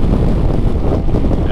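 Wind buffets the microphone on a Suzuki Burgman 200 scooter cruising on a highway at around 100 km/h, a loud, steady rushing roar with no voices.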